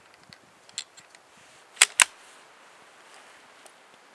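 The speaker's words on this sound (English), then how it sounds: "Another slight hang fire." .410 shotgun fires with a slight hang fire: two sharp, close cracks a fraction of a second apart, preceded by faint clicks and handling noises, then quiet.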